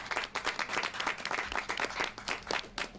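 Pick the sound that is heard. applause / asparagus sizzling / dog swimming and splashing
applause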